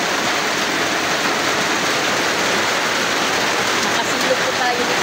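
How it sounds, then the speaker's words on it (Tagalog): Heavy rain pours down at a spring-side cottage as a loud, dense and unbroken roar of water with no pauses. "Yan ang tunay na ulan, guys."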